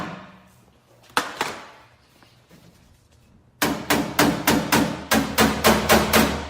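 Paintless dent repair on hail dents in a Toyota Tacoma quarter panel: a couple of sharp knocks, a pause, then a close, steady series of about nine crisp metallic taps.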